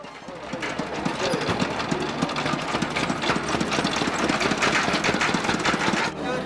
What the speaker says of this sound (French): On entend bien le moteur à explosion, mais le moteur n'explose pas